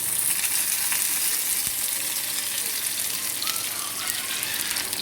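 Hot oil left from frying gola kebabs poured over them for a Bakra Eid dish, giving a steady, close, loud sizzle that hisses evenly for several seconds with no voices.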